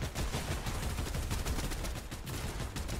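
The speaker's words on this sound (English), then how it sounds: "I'm pumping with the pistol right now" A fast volley of pistol shots in the video game Fortnite, close and loud, with rapid overlapping cracks and a few brief gaps, no talking.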